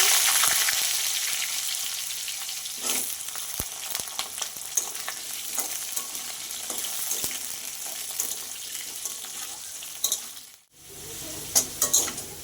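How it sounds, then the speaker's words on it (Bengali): Potatoes frying in a pan with bay leaf and whole spices make a bright, continuous sizzle with occasional stirring clicks, which briefly cuts out near the end and then returns. "দেখো আলুটা ভাজা হয়ে গেছে"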